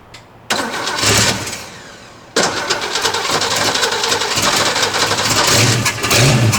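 A 1963 Ford Falcon barn-find engine, primed with brake cleaner, cranks and catches after a quiet pause, settling into a rough, loud running note with a second surge partway through.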